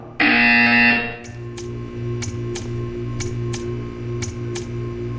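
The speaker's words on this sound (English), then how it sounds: "When you hear the buzzer, stare at the art." A loud electronic buzzer blares for about a second, then a steady hum continues under a series of sharp, evenly spaced clicks.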